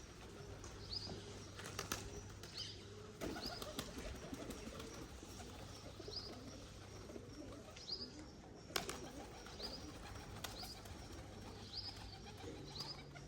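Pigeons are moved indoors, cooing softly in low repeated phrases with occasional wing flaps and chirps close by, over a faint steady background hum.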